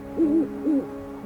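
A snowy owl gives two low, clear hoots in quick succession, each a short rising-and-falling tone, close and alone against a faint background hum.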